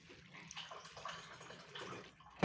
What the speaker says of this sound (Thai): เดี๋ยวเราจะเทน้ำออกนะคะ น้ำดอกอัญชัน